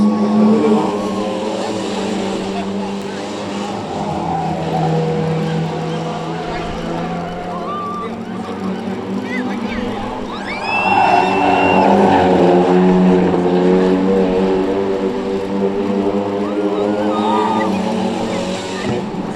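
Prostox stock car engines roar and whine as they pass on the oval at Cowdenbeath Racewall, rising and falling in pitch, with a commentator talking over the noise.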